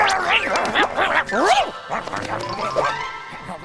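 Small cartoon dog in an animated series barking and yipping rapidly in a close, loud, continuous burst with strongly pitched yelps.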